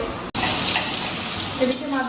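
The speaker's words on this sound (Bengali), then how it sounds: "মাছগুলো ভাজা বসিয়ে দিয়েছি" Steady crackling sizzle of fish frying in hot oil, close and continuous, with a brief dropout near the start.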